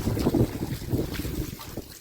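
Continuous rushing water, loud and close, with a rough windy rumble throughout and no voices.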